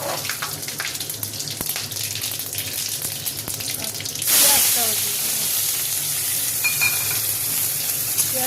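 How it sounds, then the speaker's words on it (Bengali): Whole spices dropped into hot oil for a homestyle chicken curry: quiet stirring clatter at first, then a sudden loud sizzle that bursts up and keeps hissing steadily, close by, with no speech. "তেল গরম হয়ে গেছে, এবার গোটা মশলাটা ফোড়নে দিয়ে দেবো।"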